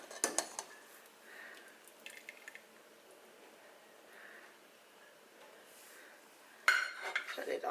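Simmered corned beef being lifted from a pot onto a plate, with quiet clinks of utensils against cookware, a few soft wet squishes, and a louder clatter near the end.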